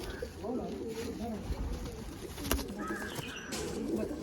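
Pigeons coo softly in low murmuring phrases amid a busy background, with a voice speaking over them.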